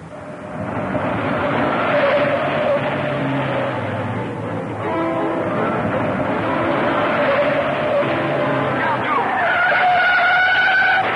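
A car races at speed along a dirt road with sustained engine roar and long skidding tire squeals. The sound is loud and close, with a sharp change near the end as the car swerves.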